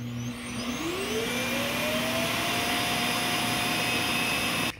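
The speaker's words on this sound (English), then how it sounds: "It's gonna switch on the more powerful vacuum warning me, hey, it's gonna make a lot of noise." A Roborock Q5+ self-emptying dock kicks on its powerful suction to empty a robot vacuum's bin, a loud steady whine that ramps up in pitch and holds for several seconds before cutting off abruptly.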